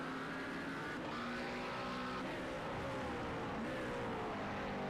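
A Sharkmouth McLaren GT3 race car howls around Laguna Seca in a sim racing game, its engine note a steady, loud whine that sweeps up and down in pitch as it rounds a corner and accelerates away.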